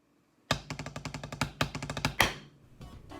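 Snare drum played by a Santa Clara Vanguard drum corps snare drummer, working slowly through triplet tap rolls and a six-stroke roll that ends on a sharp accented shot; crisp, close, rhythmic strokes with no talk.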